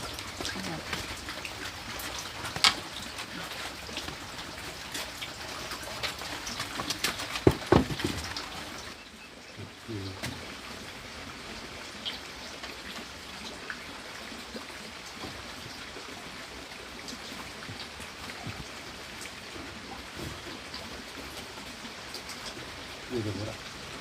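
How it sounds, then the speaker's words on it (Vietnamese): Steady rain falls on a surface at a home, a soft continuous patter with scattered drip clicks, while people talk now and then over it. "trời mưa như thế này"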